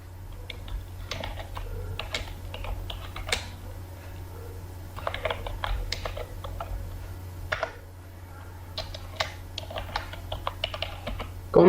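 Computer keyboard keys tapped in irregular bursts while entering Urdu text in InPage desktop publishing software, close and fairly loud over a steady low hum, with short pauses between runs of keystrokes.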